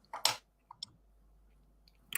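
Cutting small parts off a plastic model chassis for a Bedford OSB kit, a few sharp close snips and clicks separated by quiet pauses.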